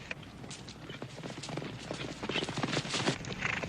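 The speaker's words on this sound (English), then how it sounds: "Get these horses moving!" Horses' hooves clip-clop in a busy, irregular patter, fairly close and steady throughout, with a faint hint of voices mixed into the clatter.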